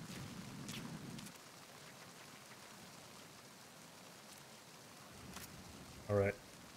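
Rain in the stealth game Metal Gear Solid 2 falls as a soft, steady hiss of drops on surfaces, faint and continuous, with a brief louder burst near the end.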